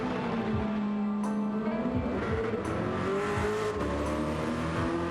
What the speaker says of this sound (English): Off-roading the Urus is like no other.